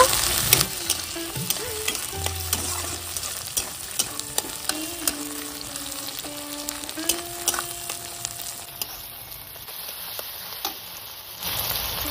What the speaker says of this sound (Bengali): টমেটোটা একটু ভালোভাবে কষিয়ে নেব।